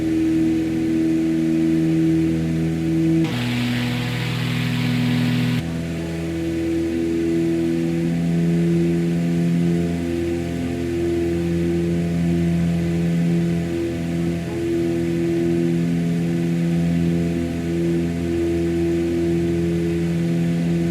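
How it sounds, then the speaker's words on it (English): Twin piston engines of a Cessna 404 Titan run at full takeoff power in a flight simulator game, a loud, steady droning hum with layered tones that holds unbroken and without talk. "Alright, so full power. Stable, and then we release."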